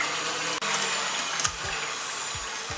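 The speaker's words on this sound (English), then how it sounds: "we're just going to chuck it into our food mixer, get the whisk on" An electric food mixer with a whisk attachment beats hot cross bun batter to aerate it, a steady loud motor whir running throughout with a brief dip and occasional low clunks.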